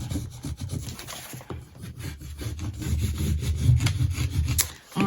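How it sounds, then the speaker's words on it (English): A crayon is rubbed over paper to trace a clothing pattern, giving a close, continuous scratchy rubbing in uneven strokes, with no talking. "now I'm just gonna smooth out some of these rubbings with my crayon."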